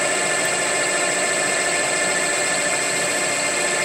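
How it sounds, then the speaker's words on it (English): A left-handed cobalt drill runs steadily, trying to wind something out, giving a continuous high whining hum at constant speed with no pauses or speech. "I've got a cobalt drill, but more importantly it's left-handed"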